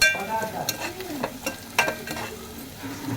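Onions frying in a pan for chicken biryani, sizzling steadily with a few sharp stirring clinks and scrapes of a utensil against the pan.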